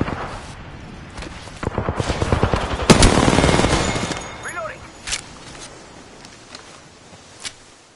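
Gunfire in Apex Legends: a rapid automatic burst swells into a loud, sustained volley, then thins to a few scattered, fainter single shots as the shooting tails off.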